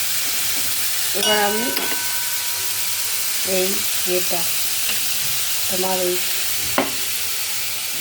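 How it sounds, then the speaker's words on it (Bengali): Shrimp frying in oil in a pan and being stirred, a loud continuous sizzle with scraping stirs, while a person speaks briefly over it in a few short phrases. "চিংড়ি মাছটা জাস্ট একটু নেড়ে নেব"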